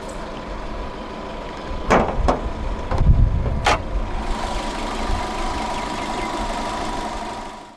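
A 2014 Proton Iriz 1.3 Executive, with a 1.3-litre naturally aspirated DOHC 16-valve inline-4 petrol engine with variable valve timing, cranks in a few sharp bursts, catches, then settles into a steady close idle.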